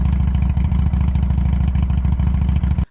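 Motorcycle engine sound previewed in Unreal Engine 4, a loud, steady rapid putter at constant revs that cuts off abruptly at the end.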